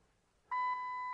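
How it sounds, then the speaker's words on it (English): A Jeep TJ Rubicon sounds a single steady electronic key beep, loud and close, lasting about half a second as a clean sustained tone. "So there's my key beep and no light."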